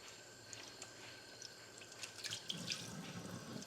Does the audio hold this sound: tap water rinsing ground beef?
yes